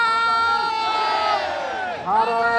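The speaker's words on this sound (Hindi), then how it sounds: "देखिए किस तरीके से हूटिंग श्री राम, श्री राम" A large crowd at a Delhi election event shouts and chants "Shri Ram" in unison with loud cheering, a continuous roar of many voices with rhythmic rising calls.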